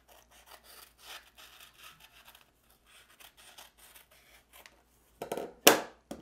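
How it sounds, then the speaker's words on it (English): Trimming a thin strip off the side of a piece for an e-bike battery rattle fix gives short rhythmic rasping strokes, faint at first, then a louder burst of cutting near the end. "I'm just gonna trim some of this down along the side just to make it a little thinner"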